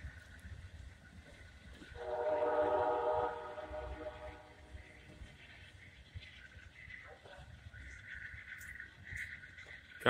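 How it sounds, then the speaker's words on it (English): Amtrak Silver Meteor 98 pulls out of Fayetteville station in North Carolina, sounding a loud horn blast for about a second before the low rumble and rolling of the moving cars carries on more quietly. "Amtrak, so Meteor 98, leaving"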